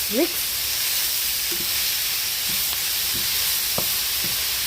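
Chicken fries in a pan while being stirred, a soft continuous sizzle with a few faint scrapes of a utensil against the pan and brief rustles scattered throughout, no talking.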